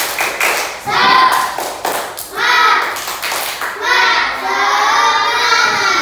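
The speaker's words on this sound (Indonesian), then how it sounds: "Tepuk semangat" A class of young children performs a rhythmic spirit clap, sharp bursts of group clapping in a patterned beat alternating with their chanted voices, loud and close in a classroom.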